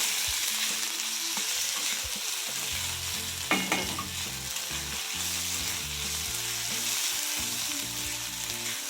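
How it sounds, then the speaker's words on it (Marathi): Kartoli (kadvanchi) vegetable sautéed in oil in an iron wok, a continuous close sizzle broken by repeated scraping stirs and a brief louder clatter of the spatula. "तेलामध्ये कडवंची छान अशी परतून घ्यायची आहे"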